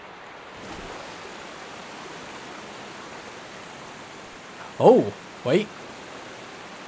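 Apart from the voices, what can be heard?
waterfall rushing while climbing it in a Pokémon video game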